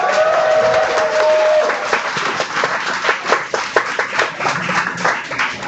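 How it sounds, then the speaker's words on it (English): Audience applause at an MSI esports event, the MOA 2014 tournament: a large crowd claps steadily throughout, dense and continuous with some louder individual claps, and faint voices mixed into the noise. "I want to hear a big applause for this."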